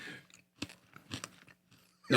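A mint being chewed and crunched close to the microphone, a few irregular crisp bites and crunches separated by short quiet pauses, ending with a louder crunch.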